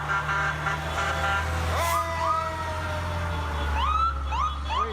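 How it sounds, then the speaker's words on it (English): Fire and police vehicle sirens wail together in repeated rising and falling sweeps over a steady low engine rumble, fairly close and loud, with no talking. "fire and police departments are running their sirens to salute those fighting COVID-19"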